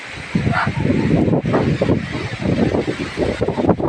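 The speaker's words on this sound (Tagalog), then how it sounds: "Ano, malakas pa rin ang hangin sa amin." Strong wind from Typhoon Kristine roars continuously, buffeting the microphone with gusty low rumbling throughout.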